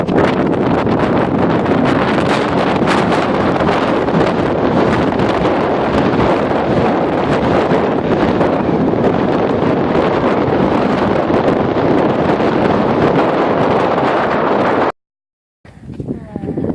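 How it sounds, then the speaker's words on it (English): Strong wind at the Grand Canyon roars and buffets loudly and continuously across the microphone, broken by a brief silent cut near the end. "It's so windy too."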